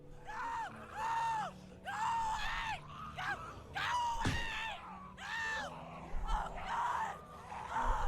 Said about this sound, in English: the scream that's being heard is the exact same scream that was made by Sarita in season 2 of episode 3